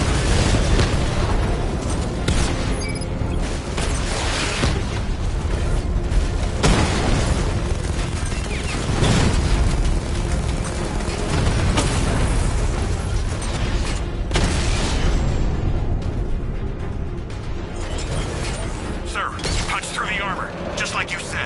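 Heavy cannon blasts and mechanical rumble from a 60mm tank cannon in the game Batman: Arkham Knight, with repeated booming hits over a dense, continuous battle din and voices talking throughout.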